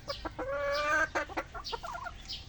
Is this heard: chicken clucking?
yes